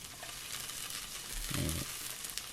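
Saba mackerel fillets sizzle in a non-stick pan over moderate heat, a faint steady crackle with a brief louder burst of frying partway through.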